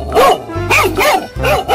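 A cartoon-style dog gives several loud, close barks in a quick rhythm of bow-wow yelps, each sharp and distinct, with nothing else in the background.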